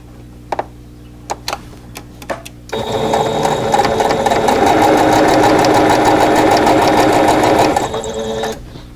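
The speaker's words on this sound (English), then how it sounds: "I'll sew the first 2 pieces of each row together" A sewing machine runs steadily for about six seconds, joining quilt block pieces for a Kings Crown stash-buster block, after a few sharp clicks of handling; the motor hum and rapid needle ticking are close and loud, then stop abruptly.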